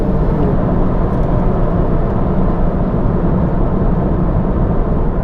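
A Porsche 911 of the 997 generation passes by as a broad, steady engine and road roar holding at an even loudness throughout, with no voices over it.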